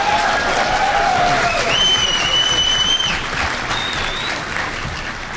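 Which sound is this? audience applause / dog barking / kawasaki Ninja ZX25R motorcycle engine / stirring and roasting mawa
audience applause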